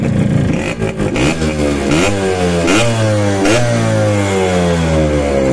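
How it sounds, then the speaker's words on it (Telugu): A Yamaha RX100 motorcycle engine, loud and close, revs up and down several times, each throttle blip rising in pitch and falling back to a steady idle. "బండి స్టార్ట్ అయితే ఒకసారి చేసి చూపిస్తాం మీకు."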